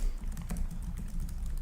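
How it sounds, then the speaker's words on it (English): Rapid, soft key clicks from typing on an Acer Predator Helios 300 gaming laptop keyboard with a GTX 1660 Ti, steady and close against a low background hum, no talking. "Keyboard feels great."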